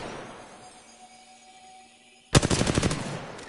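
Sharp burst of rapid automatic gunfire from a battle royale video game match, erupting loudly after a quiet stretch and rattling off in a quick string of shots for about a second.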